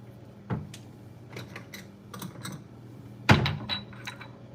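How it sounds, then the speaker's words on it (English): An onion being cut with a knife in a home kitchen, heard as a few sparse, sharp chops and taps close by, with a couple of louder strikes against a board and quiet gaps between them. "I'm also gonna cut another onion"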